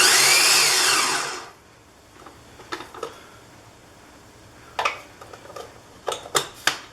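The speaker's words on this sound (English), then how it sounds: "Throw them in the food processor, and the food processor is going to make short order of them." A food processor spins briefly and winds down while chopping vegetables for chili, followed by a few light clicks and knocks from the appliance.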